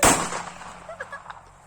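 A hand-lit Diwali firecracker bursts with one loud sharp bang at the start, its echo fading over the next second, followed by faint crackles and distant voices.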